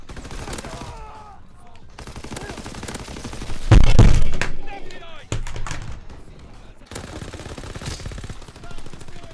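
Rapid automatic gunfire in an online shooter game rattles in bursts, with one heavy, loud blast in the middle and voices talking around it.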